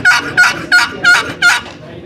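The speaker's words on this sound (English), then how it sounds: "And then the box call, they're so easy to run." A wooden box call is run to make a turkey yelp, five sharp, evenly spaced raspy notes in quick succession, close and loud, with no talking over them.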